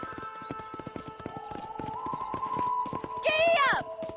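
A horse gallops in Red Dead Redemption with a fast, steady clip-clop of hooves, then a short whinny near the end, mixed with game ambience.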